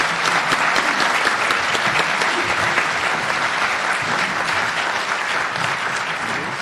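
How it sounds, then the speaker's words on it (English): An indoor audience at a school funding forum gives a steady round of applause as panelists leave the stage, dense even clapping that holds for several seconds and eases slightly toward the end. "How about another round of applause for all of our panelists as they exit the stage?"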